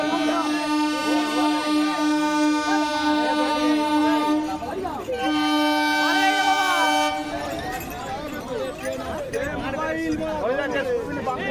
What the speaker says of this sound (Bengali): দেখাচ্ছি তোমাদেরকে একটু বলি এই যে আরামবাগ